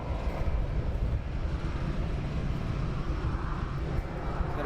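A Ryanair airliner departing London Luton Airport gives a dense, steady roar of jet engines, broad and rumbling without a break, heard from a moderate distance.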